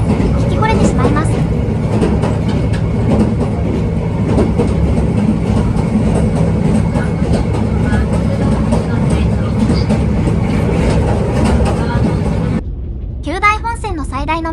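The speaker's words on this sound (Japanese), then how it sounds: "この後聞こえる線路の継ぎ目の音のリズムが最高にいいリズムで聞き惚れてしまいます。" A JR Kyushu sightseeing train on the Kyudai Main Line runs along, with steady wheel rumble and repeated clicking over rail joints throughout, loud and close, and a brief announcement-like voice near the end.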